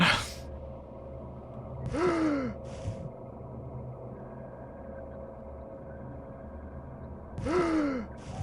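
An underwater breathing sound from the video game Return to Castle Wolfenstein: two separate breaths, each a sharp rising gasp followed by a bubbling exhale, repeating about five seconds apart over a low game ambience.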